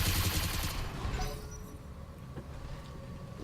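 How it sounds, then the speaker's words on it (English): Machine guns on a Locust mech fire in the BattleTech video game, a rapid burst of gunfire at the start that breaks off within about a second and a half, leaving quieter battle noise and faint hum. "I'm going to come in and try and finish this guy off with some machine guns"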